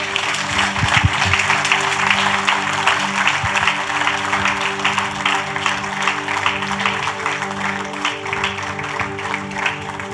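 A church congregation claps and applauds for the Lord, sustained dense clapping that stays fairly even throughout, with a low organ or keyboard chord droning beneath.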